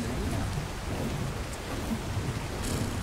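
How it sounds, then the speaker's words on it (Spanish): Heavy rain pours in ARK Survival Evolved, a dense, loud, unbroken roar with a low rumble of thunder underneath, and no voices over it. "justamente ahora tiene que ponerse a llover"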